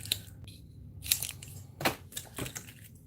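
A die-cut shape is cut free from a sheet of material with a few sharp close snips and rustles spaced about half a second apart, with nobody speaking.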